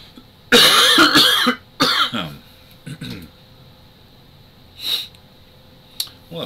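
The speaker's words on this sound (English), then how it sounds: "Pardon me, I have to cough." A man coughs several times close to the microphone, a loud harsh burst followed by shorter coughs and throat-clearing sounds spaced out over a few seconds, with quiet gaps between them.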